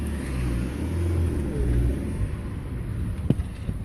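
A Rover 400 car engine idles and rumbles steadily at low volume as the car is moved to be parked, with a faint wind noise and a brief knock near the end.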